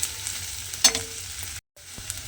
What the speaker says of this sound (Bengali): আদাটাও কিন্তু আমি একটু ভেজে নেব